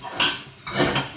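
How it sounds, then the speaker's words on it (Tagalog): Ceramic dishes clatter in a kitchen as a bowl is pulled from a stack: two short bursts of knocking and clinking, close by with no talk. "Kuha tayo ng mangkok."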